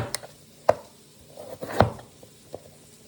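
Vegetables, including colocasia, are chopped into cubes for a Kerala-style sambar with a knife on a board, giving a few sharp, separate close chops at an irregular pace with quiet gaps between them.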